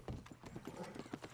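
Horse hooves clip-clopping at a steady trot in Red Dead Redemption 2 Online, a quick run of close, quiet thuds heard alone.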